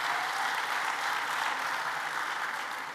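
Steady audience applause at a secondary school graduation ceremony, a dense, even wash of clapping that holds for the whole stretch and tapers slightly at the end, with no talking over it.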